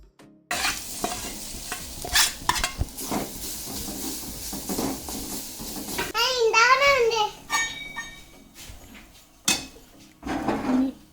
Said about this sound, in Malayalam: തേങ്ങ ഒന്ന് പയ്യെ വാട്ടി എടുക്കാം കേട്ടോ